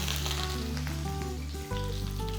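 Cumin, black pepper and curry leaves sizzle and fry steadily in hot oil, a dense continuous crackle with a brief dip near the end, no voices.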